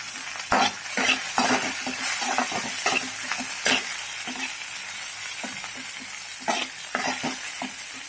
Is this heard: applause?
no